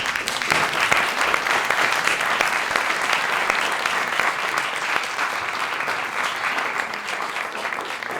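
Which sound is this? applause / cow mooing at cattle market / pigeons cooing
applause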